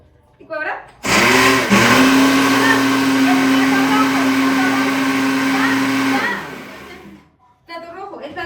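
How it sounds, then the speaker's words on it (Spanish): An electric kitchen blender runs for about five seconds, a loud, steady whirring grind that starts abruptly and cuts off, with people talking nearby just before and after. "Ponla a licuar"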